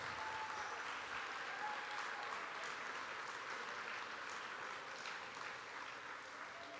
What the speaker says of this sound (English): Applause, big applause again for them